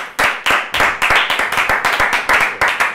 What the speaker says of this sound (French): Eh, les applaudissements.